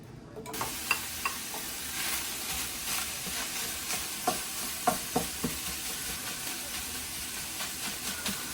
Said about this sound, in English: let it simmer for just a little bit before I pour it down into my casserole dish